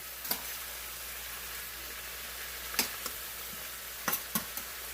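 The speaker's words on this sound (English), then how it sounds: "all you're going to do to this stir-fried cabbage is chop them, put them in hot oil, start putting that seasoning in there" Chopped cabbage is stir-fried in hot oil, making a faint steady sizzle with a few crisp scraping taps from stirring.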